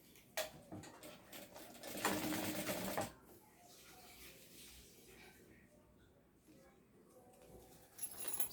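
A domestic sewing machine stitches a fabric shoulder bag, a quiet rapid whir that builds into a louder burst of running stitches, then eases back to a soft mechanical hum with faint clicks.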